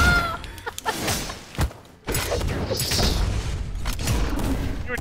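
Bombs explode in the fighting game Brawlhalla, a series of booms, thuds and crunchy impacts mixed with game effects, with a brief quiet gap before a dense stretch of blasts.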